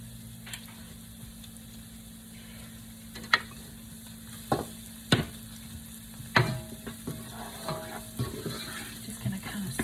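Spaghetti sauce simmering in a pan gives off a steady low sizzle. A utensil stirs it up close, with scattered scrapes and clacks growing more frequent toward the end.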